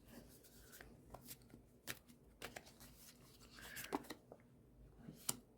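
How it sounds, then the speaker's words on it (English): A tarot card deck being shuffled by hand: quiet, irregular riffling snaps and soft papery flicks, close to the listener with low background hiss. "You guys don't want to sit here and watch me practice shuffling."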